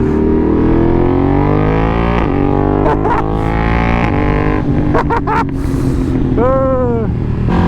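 A race motorcycle engine runs loud and steady close by, a thick droning idle with a brief rising rev near the end.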